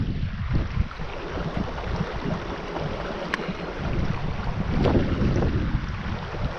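Wind gusting by a creek on a windy day, a steady broadband rush buffeting the microphone with brief louder gusts, no talk.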